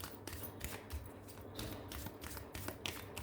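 Tarot cards being shuffled and drawn during a reading, soft papery riffles and light flicks close by, a steady run of brief rustles and taps with no one talking.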